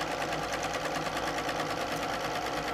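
A sewing machine runs fast and continuously during free motion quilting, a loud close mechanical hum with a rapid even needle chatter throughout.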